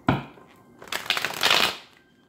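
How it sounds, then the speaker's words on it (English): Tarot cards being shuffled by hand, a sharp tap followed by a rapid riffling flutter that builds and fades over about two seconds, close and clear. "One more shuffle, Pisces."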